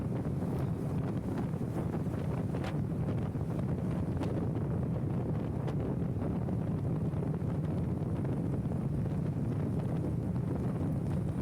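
Strong wind buffets the microphone during an early-morning ride on a KYMCO Xciting VS400 scooter along the SLEX expressway. A constant loud low roar runs throughout with occasional gusty flutters and no speech.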